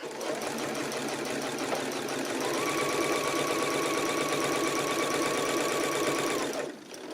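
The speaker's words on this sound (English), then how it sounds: "I'm just going to sew all the way around this" A sewing machine runs steadily, stitching binding around the edge of a heavy quilt, with a close, continuous whirring hum and rapid needle clatter that stops abruptly near the end.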